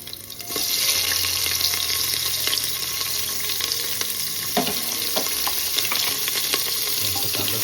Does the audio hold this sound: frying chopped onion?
yes